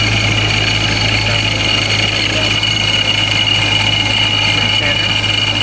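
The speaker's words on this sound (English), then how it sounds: "you could hear more gear noise in there sometimes" A Procharger-supercharged Dodge Charger Scat Pack idles loudly and steadily, with a constant low drone and a high whining gear noise running through it, close to the car.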